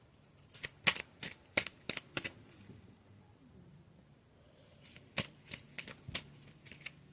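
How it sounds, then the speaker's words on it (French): Oracle cards are shuffled in two quick bursts of crisp, rapid slaps with a quiet pause between them, soft and close. "Je vais prendre une carte avec les accords Toltec de Don Miguel Ruiz pour compléter."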